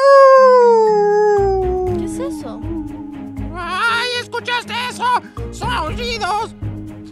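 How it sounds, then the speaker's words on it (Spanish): Giant wolves howl in a long, loud, falling cry that opens the scene, followed by a chorus of wavering howls and yips over a low, steady ambient drone. "Son aullidos de lobos gigantes y de seguro tienen mucha hambre."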